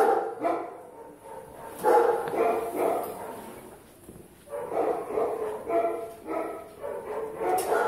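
Several dogs bark at an animal shelter in Gouda, bursts of barking and yips from a short distance, with a brief lull midway.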